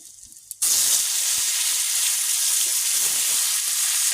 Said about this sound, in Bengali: জিরে ফোড়ন দিয়ে ভেজে নেব দিয়ে দিব আলু আর উচ্ছে